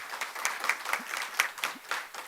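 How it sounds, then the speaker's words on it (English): A modest group at a committee gathering gives a round of applause, light scattered clapping with distinct individual claps standing out, fairly faint and close to the room. "I want to ask for a round of applause for her coming back and helping us"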